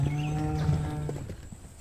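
A male buffalo lowing on a farm, one long close, loud moo that fades toward the end, heard alone without speech.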